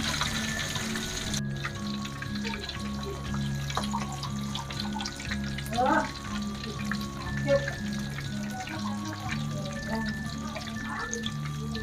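Food frying in a pan of hot oil, a steady sizzling crackle with scattered pops and stirring sounds, continuing under intermittent talk.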